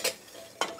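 Cinnamon water for atole being stirred in a pot, two quick scraping swishes of a utensil against the pot, faint and close.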